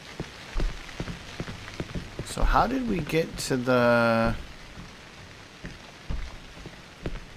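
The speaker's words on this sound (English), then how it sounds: "It's raining." Steady rain falls throughout a scene in the horror game Cry of Fear, a constant patter beneath a voice as he talks over it.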